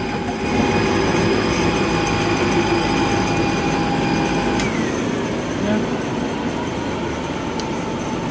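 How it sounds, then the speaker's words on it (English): A starter generator spins steadily to motor the engine, a loud, even whirring drone with a sustained whine that holds for the whole stretch without letting up. "Starter generator spinning away."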